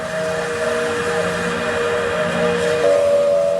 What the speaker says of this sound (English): The most famous of the locomotives is Stephenson's rocket.